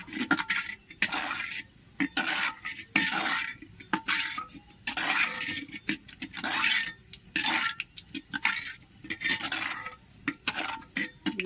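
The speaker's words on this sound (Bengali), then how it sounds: "একটু নাড়াচাড়া করে নেব।" Rhythmic scraping of a utensil spreading oil around a metal handi pot, repeated strokes in bursts with short pauses, close and fairly loud, no voices.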